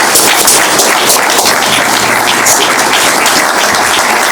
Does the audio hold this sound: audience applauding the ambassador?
yes